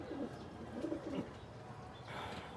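An injured pigeon with swollen eyes, resting after getting into mud, coos softly in a few low, repeated throaty phrases close by, with no talking over it.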